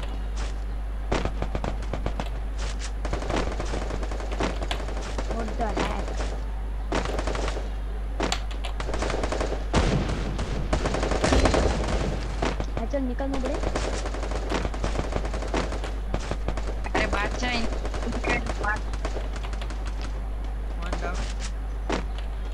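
Rapid, repeated gunfire spammed in an online shooting video game, heard as dense bursts of sharp shots over a constant low hum, with people talking throughout.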